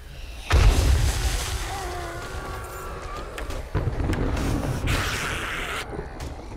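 A loud explosion booms suddenly in the video game 7 Days to Die, then a long rumbling aftermath and crackling debris follow, with a second burst of noise later.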